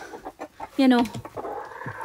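A hen gives a loud, drawn-out cluck among scattered softer clucks and short calls from farm chickens close by.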